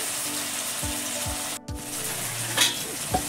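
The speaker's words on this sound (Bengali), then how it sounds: "এখন আমি দিয়ে দিচ্ছি ম্যারিনেট করা সিদ্ধ আলু" Marinated boiled potatoes dropped into a hot pan already frying peas, onion and tomato for aloo dum, a steady close sizzle broken by a few thuds and a spoon scrape as they go in.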